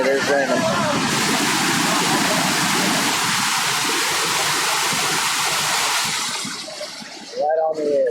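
Iguazu waterfall pouring over the edge, a loud, steady, close-up roar of rushing water that fills the scene and eases near the end, with brief voices speaking at the start and close.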